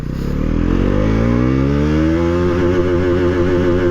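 A Bajaj Pulsar NS400Z motorcycle pulls away hard in first gear, its engine note rising steadily in pitch as it accelerates, loud and close, with no voices over it.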